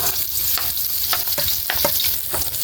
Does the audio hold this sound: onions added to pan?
yes